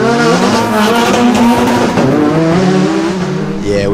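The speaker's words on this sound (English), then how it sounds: "Need some of these big powered cars coming to the line now." Big-powered race cars at the Legend of the Lakes hillclimb, engines loud and near, a sustained roar with tire squeal and skidding edges over about four seconds.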